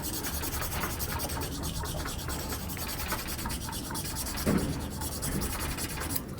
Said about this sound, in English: Fine sandpaper.